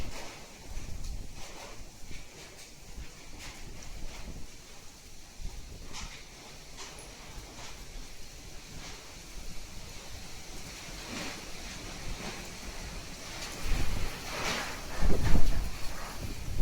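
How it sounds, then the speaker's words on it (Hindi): A fierce windstorm sweeps a Narmada riverbank near an ashram with loose tin roofing, producing a continuous rushing roar that swells into louder gusts near the end, with no talking. "भाई इतनी तेज खतरनाक हवा चल रही है।"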